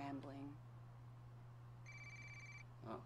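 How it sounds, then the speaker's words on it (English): An incoming call rings on a phone in the Watch Dogs video game: a single electronic ring tone sounds at moderate level over a steady low hum, between brief bursts of speech at the start and end. "Oh, someone's calling."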